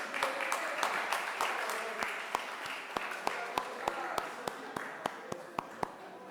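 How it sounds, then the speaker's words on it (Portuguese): Council chamber applause at an ordinary session celebrating a councillor's birthday: steady crowd clapping with one loud, sharp, regular clap standing out near the microphone, while voices talk over it throughout. "Uma salva de palmas para o nosso..."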